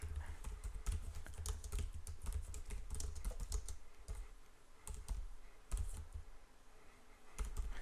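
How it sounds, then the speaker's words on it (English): Rapid, steady typing on a computer keyboard, keystrokes close and fairly loud, clattering without pause for nearly eight seconds with a few brief lulls, no voices. "So I can actually type my own keyword in here."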